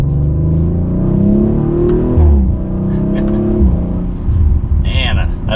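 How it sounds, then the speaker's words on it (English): Turbocharged engine of a 2021 Audi RS5 Coupe pulls hard under acceleration, its rising drone heard from inside the car, then shifts and settles while a few crackling exhaust burbles follow near the end, with someone talking over it. "I like the little burbles I heard on the exhaust"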